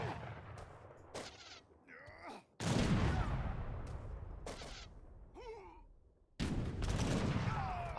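Artillery and musket volleys in Age of Empires III crack out in sharp bursts separated by short gaps, with a loud rolling barrage near the middle and another at the end. A commentator talks between the shots.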